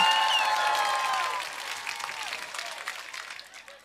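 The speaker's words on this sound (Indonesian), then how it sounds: "Tepuk tangan dulu dong buat petani." Crowd at an outdoor religious sermon gathering applauds for farmers, clapping fading gradually under a speaker's voice and a lingering tone.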